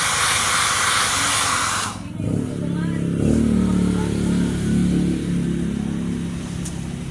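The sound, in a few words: blower dryer running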